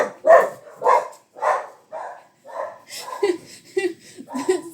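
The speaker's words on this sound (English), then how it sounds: "Somebody rang the bell, and my dogs went crazy." Dogs bark excitedly after a doorbell rings indoors, a run of loud, close barks at a quick uneven pace, shifting toward higher yips and whines near the end.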